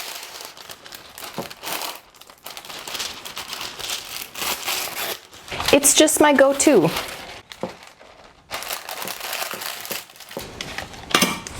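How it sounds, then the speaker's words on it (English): Parchment paper crumpled and pressed into a cake pan while baking a coffee cake, bursts of close crinkling and crackling in several bouts, loudest in the middle, with someone talking in between. "I'm using parchment paper."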